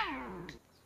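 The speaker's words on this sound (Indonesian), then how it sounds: "Ada kucing." A single cat meow, close and fairly loud, with a falling pitch lasting under a second before fading into quiet.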